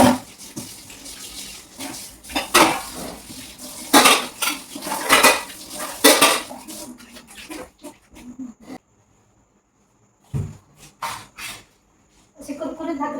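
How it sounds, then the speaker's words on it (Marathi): Dishes and cutlery are scrubbed and clattered in a kitchen basin at a village home, with loud clinks and scrapes in bursts, a brief quiet gap, then more rattling, and a little background noise. "आता जाळीतली भांडी लावते आणि बेसिनमधली भांडी घासून घेते."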